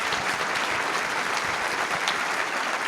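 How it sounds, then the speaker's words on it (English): Large audience applauding at a cyber-security conference, steady dense clapping filling the room throughout without pause. "Let's give them a big round of applause"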